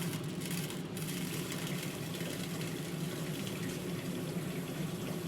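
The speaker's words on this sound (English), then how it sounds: "I always like to get my tall pot and I put cold water in my pot." Cold tap water runs steadily into a tall pot, a continuous close hiss and splash that holds evenly for several seconds with no talking.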